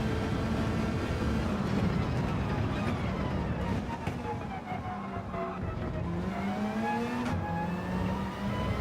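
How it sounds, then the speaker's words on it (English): Car engines from a Mazda and a Ferrari in Gran Turismo 7 drone and rise in pitch as they accelerate, a steady loud engine roar with shifting tones throughout. "The Mazda seems to have a better acceleration as the Ferrari"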